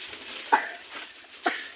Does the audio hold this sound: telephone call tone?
no